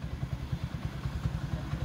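A motorcycle engine with a primary-winding AC-type CDI, just repaired, idles steadily with a fast, even low thumping pulse and some mechanical clatter, close and fairly loud with no talking.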